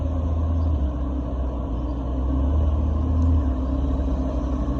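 A supercar's engine rumbles steadily at the start of the Coupe des Alpes rally, a low continuous drone that swells slightly midway, heard alone without talk.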